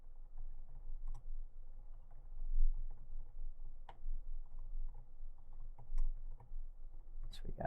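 Fingers tap on a computer keyboard at a near distance, soft irregular clicks with occasional sharper keystrokes over a low background hum, with faint speech-like murmur.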